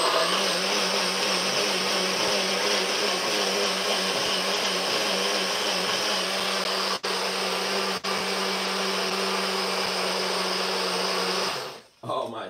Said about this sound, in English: let's blend this one right here